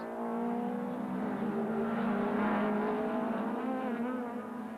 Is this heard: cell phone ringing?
no